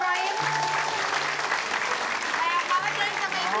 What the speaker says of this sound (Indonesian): Tepuk tangan dulu untuk Rahim.